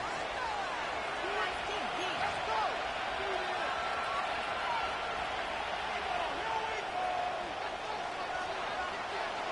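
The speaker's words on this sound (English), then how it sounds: "The crowd is definitely ready." A stadium crowd at Gillette Stadium in Foxborough in an EA Sports football game, Titans versus Patriots, roaring as a dense, constant wash of cheering with scattered whoops and voices throughout.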